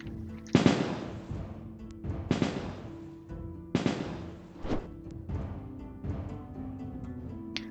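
Gunshots in the game Tales of Maj'Eyal, four or five sharp, loud cracks spaced about a second apart, each with a short ringing tail over a steady hum of game background sound.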